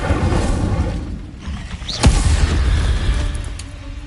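An Incendio fire spell blast in Hogwarts Legacy: a single sharp whooshing boom near the middle, rising out of a steady rumbling battle bed.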